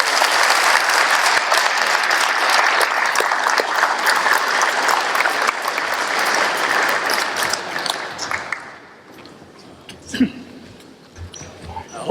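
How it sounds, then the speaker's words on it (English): An audience in a school gym at a baseball reunion gives sustained, loud applause for about eight seconds before it fades into scattered claps and low murmurs. "Let's give Mr. Wiitala a round of applause."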